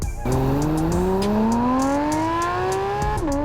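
A naturally aspirated Porsche 911 GT3 engine with 502 horsepower and a 9,000 RPM redline revs hard, its loud rising howl climbing steadily for about three seconds before dropping sharply at the shift.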